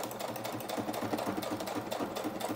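A sewing machine stitches straight across lace on a junk journal cluster with a rapid, even, continuous chatter. It is close and steady throughout, and no one speaks.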